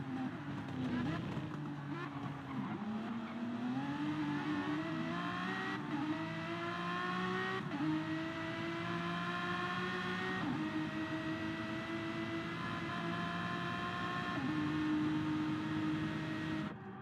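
Race cars at Circuit de la Sarthe in a sim racing game, engines droning loud and steady with rising and shifting pitch as several cars run close together, under a continuous layer of commentary.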